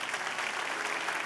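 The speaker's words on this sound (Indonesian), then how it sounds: "Kasih tepuk tangan buat Tuhan." A church congregation claps together during a sermon, steady dense applause filling the room for the full moment without pause.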